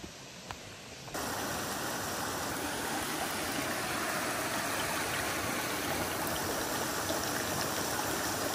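A small creek flows steadily and close by, a continuous rushing trickle that starts abruptly and then holds at an even level, with no voices.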